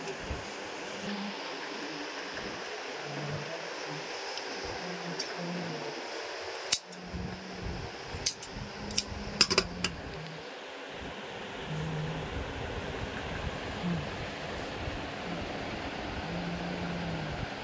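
Siruba industrial sewing machine stitching a garment, a rhythmic mechanical whirr in several short runs with clicks and brief pauses between, steady and close, with no talking.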